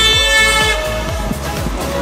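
A car horn honks steadily on a street in Lisbon, Portugal, a loud sustained toot with a rich stack of tones, over low traffic rumble and the sound of passing vehicles.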